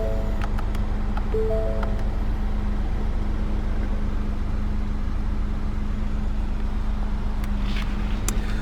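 A 2018 Ford Fiesta 1.0T EcoBoost three-cylinder idles steadily just after starting, with a low, constant engine hum and a few faint ticks and clicks near the start and the end.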